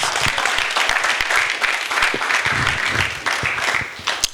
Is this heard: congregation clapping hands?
yes